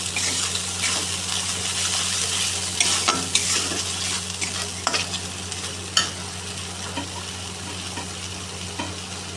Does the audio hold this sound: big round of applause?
no